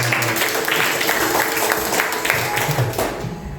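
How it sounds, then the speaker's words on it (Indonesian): A congregation claps during a Sunday worship service in a church hall, giving a sustained, diffuse wash of applause across a large room, with faint voices mixed in. "Tepuk tangan dulu."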